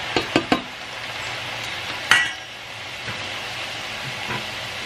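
Tempe frying half-done in hot oil in a home kitchen: a steady, moderate sizzle runs throughout, with a few sharp utensil clicks near the start and one louder clatter partway through.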